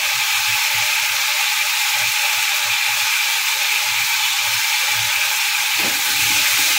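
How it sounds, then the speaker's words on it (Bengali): Tomato masala for a cauliflower dhoka dalna fries in a pan with a continuous close sizzle and hiss, steady and loud throughout, with soft low clatters underneath. "ভালো করে ভাজবো মশলাটাকে"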